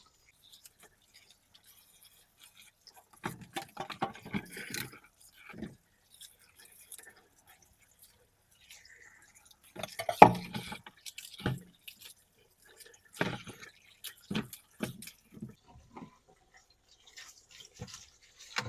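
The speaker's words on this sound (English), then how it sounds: "I like to wash the bananas because they're out there in the elements and there's dust and dirt there" Garden bananas washed in water, with soft splashes, drips and wet handling squishes coming in irregular bursts, close and fairly quiet.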